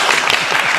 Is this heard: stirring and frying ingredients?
no